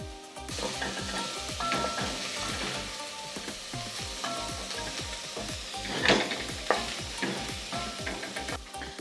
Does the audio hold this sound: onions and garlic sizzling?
yes